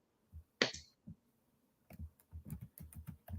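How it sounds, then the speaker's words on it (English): Keys tap on a computer keyboard in quick, uneven bursts, quiet and close. Short clusters of clicks come in the second half after a sharper click and a pause. "I'm just typing your page there."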